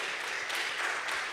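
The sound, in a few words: audience applause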